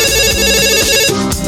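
A telephone rings loudly and continuously with a bright repeating electronic ring tone, close and alone.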